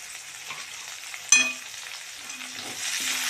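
Soybean chilli frying in oil in a pan as capsicum goes in, a soft low sizzle punctuated by one sharp utensil clank and a few quieter scrapes.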